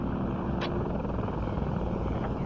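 A helicopter in the military shooter Squad, a steady, loud, droning rotor and engine roar that holds without a break throughout.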